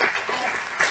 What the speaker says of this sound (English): we need to clap for her